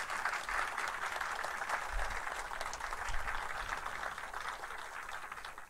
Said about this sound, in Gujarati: ફરીથી જોરદાર તાળીઓથી વધાવીએ